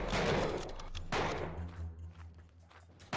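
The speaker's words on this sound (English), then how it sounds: "then they're shooting me" Rapid bursts of gunfire from enemies shooting in the video game MAXIM: a dense volley up front, another burst about a second in, then sparser scattered shots and a final sharp crack.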